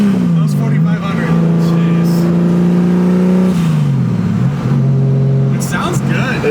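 Turbocharged S52 engine in a BMW E36 revving on a dyno through a straight pipe with a 3-inch downpipe, a loud, sustained close-up roar that dips and rises, with people talking over it.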